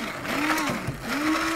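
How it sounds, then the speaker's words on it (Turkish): Electric cutting blender whirring through yogurt, its motor pitch rising and dipping as the load shifts, loud and close with a couple of brief slowdowns. "Onu da bu kesici blenderımızla yaptıktan sonra"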